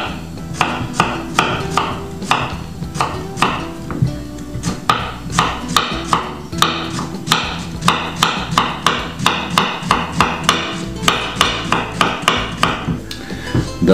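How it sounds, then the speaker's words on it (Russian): Cucumbers chopped with a knife on a cutting board for a Chuvash salad, a run of crisp, close, fairly loud knocks in quick uneven bursts with no talk. "Можно вот так вот огурцы порезать."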